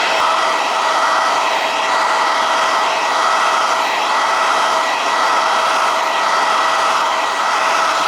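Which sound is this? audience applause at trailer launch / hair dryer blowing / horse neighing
hair dryer blowing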